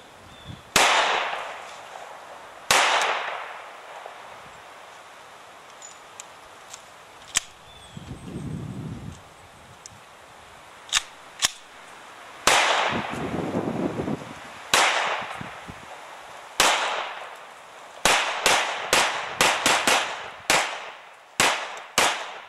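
A VMAC45 MAC-10 submachine gun fires loud, sharp shots outdoors, starting with a few spaced single reports, then a gap with low rumbling handling noise, then faster bursts of closely spaced cracks near the end, with no talk.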